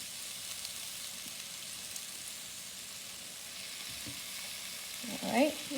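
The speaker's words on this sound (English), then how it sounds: "now I'm going to go ahead and I'm going to add in the milk, a little bit at a time, and just keep stirring it" Milk is poured into Alfredo sauce in a hot pan and stirred in gradually, giving a steady soft sizzle and simmer hiss with a few louder scraping and bubbling sounds near the end.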